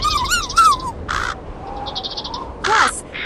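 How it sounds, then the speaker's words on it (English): Several crows caw in short, harsh bursts, calls overlapping and spaced irregularly, close and fairly loud against a quiet background. "Plus 26 crows who were renting upstairs"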